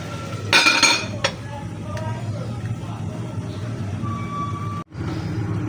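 A metal lid is set back onto a cooking pan of ground meat and vegetables, giving a short clinking clatter followed by a lighter tap over steady kitchen background hum.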